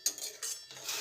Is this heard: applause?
no